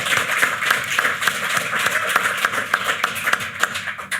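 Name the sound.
live podcast audience applause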